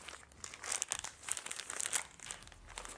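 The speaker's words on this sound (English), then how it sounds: "I really do not like these plastic bags." Thin plastic bags from a diecast Back to the Future DeLorean model kit crinkle and rustle up close, with irregular bursts of crackling throughout and no talking.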